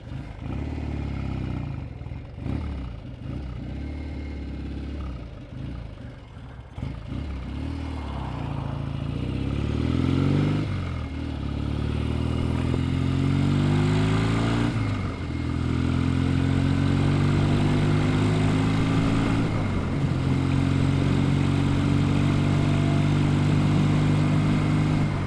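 A Norton 650SS motorcycle engine cranks with a few rough, uneven bursts, then catches and settles into a steady, close running idle with faint rhythmic clatter, the note rising and falling slightly as it keeps going.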